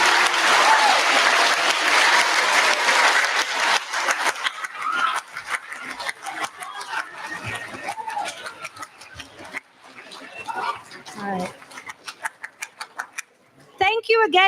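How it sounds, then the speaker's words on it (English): Loud applause from an audience at a Veterans Day event fades into scattered clapping and murmuring, ending with a few sharp claps. "Let's have one more round of applause for these veterans."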